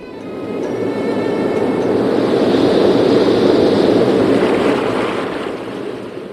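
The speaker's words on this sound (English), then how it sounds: "Large waves hit the boat" Heavy storm surf surges against a boat in rising wind, a broad continuous roar that swells loud through the middle and eases toward the end, with no voices.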